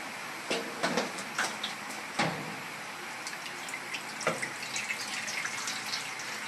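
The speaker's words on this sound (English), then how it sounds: "I grabbed this tray here and I'm going to put semi-warm water in it" Semi-warm water runs into a tray, a faint steady trickle with a few soft splashes and clinks heard up close.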